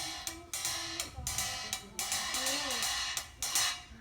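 Light, quick taps on a cymbal in a soft, uneven rhythm, each stroke giving a short bright shimmer.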